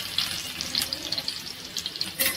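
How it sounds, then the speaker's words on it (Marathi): Garlic goes into hot oil in a pan while bombil fish fry is being prepared, and it sizzles and crackles softly. The frying is steady and close with a few brighter spits, and no one talks. "इथे आपण तेल गरम करत ठेवलंय। आता आपण यात लसूण टाकणार आहोत।"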